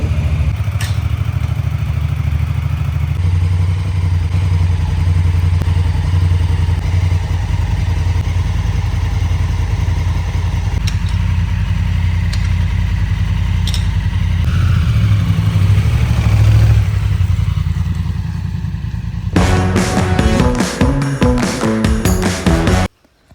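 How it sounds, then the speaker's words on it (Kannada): A motorcycle engine runs loud and steady at close range before a group weekend bike ride with friends, with a rough mid-range drone throughout and a brief clattery burst near the end, then it cuts off. "ಇವತ್ತು ವೀಕೆಂಡ್ ನಾವೊಂದು ಬೈಕ್ ರೈಡ್ಗೆ ಹೋಗ್ತಾ ಇದ್ದೀವಿ ಫ್ರೆಂಡ್ಸ್ ಜೊತೆ"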